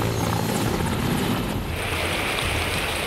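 Helicopter flying over floodwaters during an army rescue in Khairpur Nathan Shah, Pakistan, its rotor beating loudly and continuously with broad wash and wind noise, no speech.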